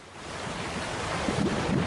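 Sea waves wash in a continuous rushing roar, broad and steady, slowly building over a couple of seconds with wind noise mixed in and no voices.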